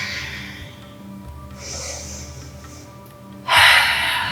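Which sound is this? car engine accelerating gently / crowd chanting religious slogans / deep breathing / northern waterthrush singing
deep breathing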